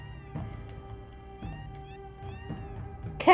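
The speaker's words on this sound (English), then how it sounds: "It's full of cats." Repeated meows from a group of cats inside a small outhouse in Final Fantasy VII, three or four close, clear calls at roughly one-second intervals over a steady game music bed, ending on a bright chime.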